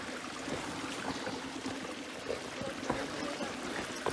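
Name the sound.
small river flowing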